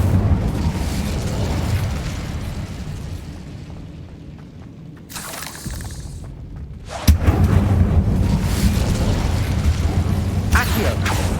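An Incendio fire spell bursts in Hogwarts Legacy, a loud booming whoosh of flame breaking out sharply after a quieter stretch and rumbling on amid game effects and a voice.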